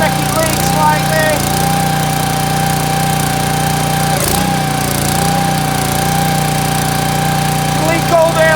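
Honda GX200 6.5HP electric-start petrol engine on a pressure washer runs steadily at close range, a loud, constant drone with a brief dip midway, with no talk over it.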